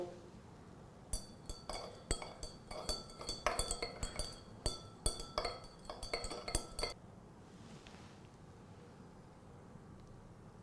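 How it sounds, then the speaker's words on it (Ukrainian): A spoon stirs oil and water in a glass during a chemistry demonstration, giving quick clinking taps against the glass for several seconds before falling quiet. "Добре перемішуємо."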